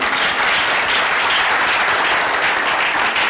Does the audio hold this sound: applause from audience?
yes